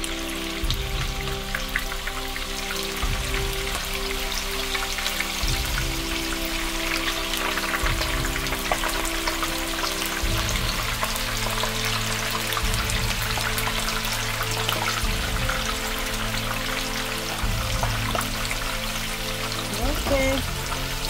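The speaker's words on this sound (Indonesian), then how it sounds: "Sesi kedua kita goreng lagi ya." Tofu for tahu jeletot fries in oil over a low flame, giving a steady, dense crackle and sizzle that runs the whole time beneath a person talking.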